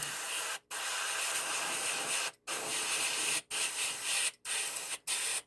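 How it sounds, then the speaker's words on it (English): An airbrush sprays paint onto a 1/32 Trumpeter TBD Devastator model kit in close, loud bursts of steady hissing, cut by five short pauses, with no talking. "I think I might still have some gunk in my airbrush for plugging up"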